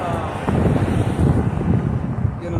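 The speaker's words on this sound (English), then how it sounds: "windy right now, but not as bad as last week." Strong gusts buffet the microphone outdoors at a camp in El Paso, Texas, a continuous low rumbling roar with bursts of wind noise filling the whole stretch, no speech over it.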